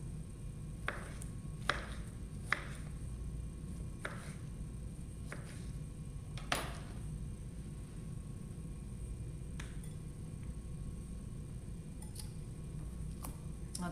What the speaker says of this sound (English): So let's just slice up our Roma